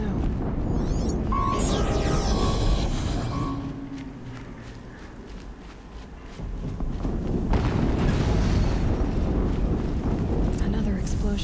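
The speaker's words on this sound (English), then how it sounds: "Another explosion." Explosions in the video game Horizon Zero Dawn rumble as heavy, continuous booms under a speaking voice and game noise, easing briefly before swelling again.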